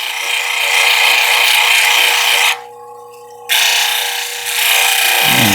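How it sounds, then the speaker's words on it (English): A 1200 grit polishing wheel grinds a soft beach stone under light pressure, giving a loud steady whirring rasp that drops to a quieter hum for about a second as contact eases, then resumes. "this wheel's even bringing up a little bit of a slurry"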